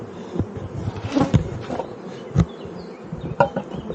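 Honeybees at a strong hive buzz in close, uneven bursts as individual insects pass near, over a low hum, with a few soft knocks from the wooden hive.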